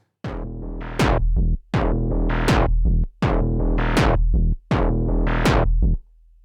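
A Moog DFAM drum synthesizer preset: synthesized percussive hits in a repeating pattern, each sharp attack followed by a falling pitched sweep, loud and close, no talking.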